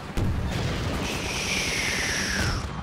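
A laser-guided missile explodes in a video game with a sudden boom, then a sustained rolling rumble with a thin high whine running over it, moderately quiet overall.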